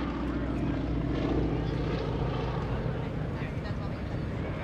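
A propeller-driven aerobatic airplane at a naval air station airshow drones steadily overhead through a barrel roll, its engine a continuous broad roar at moderate distance with people talking over it.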